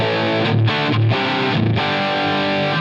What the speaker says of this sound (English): it sounds a lot like it's modeling that preamp distortion